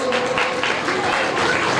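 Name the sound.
audience applause at Jain temple cultural event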